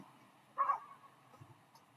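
A dog barks once outdoors at night, a single short bark at moderate distance that stands out over quiet background hiss, followed by faint low rustling.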